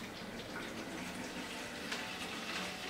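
Filtered water pours and splashes steadily at a low level onto plants, a continuous gentle stream with no voices.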